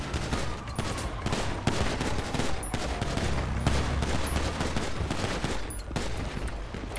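Relentless rapid gunfire crackles throughout in GTA 5, dense bursts of automatic shots layered over a low rumble, loud and continuous with no pauses.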